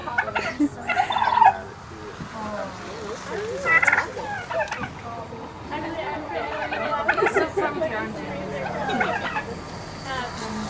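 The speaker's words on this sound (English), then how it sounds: "These are our turkeys that are showing off over here." Several turkeys gobble and chatter in bursts, fairly close, at a farm animal sanctuary in Acton, California, with a person talking intermittently over the flock.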